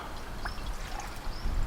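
Water poured into a pot for pot noodles outdoors in the woods, a short close splashing trickle that grows slightly fuller toward the end.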